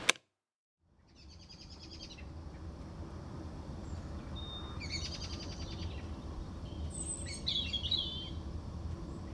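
A wild bird sings outside a cottage in Ireland, bursts of rapid chirping phrases repeating every few seconds over a steady low outdoor rumble, moderately distant, after a sharp click at the start.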